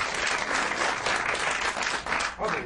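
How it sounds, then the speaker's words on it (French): An audience applauds in a comedy theatre during a French satirical show, a dense, lively wash of clapping with bright, close hand slaps that swells and dips slightly over a couple of seconds. "Cette année, on applaudit les entreprises dynamiques, s'il vous plaît."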